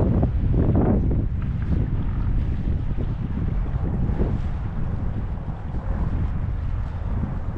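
Wind gusts over the Susquehanna River near Sunbury, Pennsylvania, a continuous rushing buffet across the microphone at moderate level with no talking.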